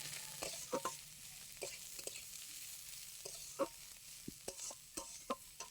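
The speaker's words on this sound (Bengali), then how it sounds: "এখানে রয়েছে গাজর কুচি, ধনেপাতা কুচি, একই সাথে খুব ভালো করে ভেজে নেব" Chopped carrot and coriander leaves fry quietly in a pan, soft sizzle punctuated by irregular scraping stirs of a spoon, fairly faint and close.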